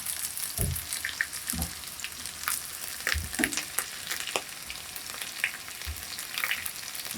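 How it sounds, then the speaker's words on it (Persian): Herbs for ghormeh sabzi stew frying gently in oil over low heat, a continuous crackling sizzle broken by occasional low thumps and scrapes of stirring. "جلوی گاز رو کم میکنیم تا آروم آروم سرخ بشه."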